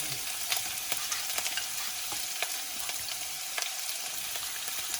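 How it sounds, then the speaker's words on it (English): Vegetables sizzle and fry in hot oil for a sizzler, a continuous crackling hiss broken by sharp little pops and spatters, close and steady with no voices. "my oil is already ready now, so I'm just going to add my veggies"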